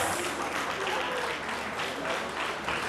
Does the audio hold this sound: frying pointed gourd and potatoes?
no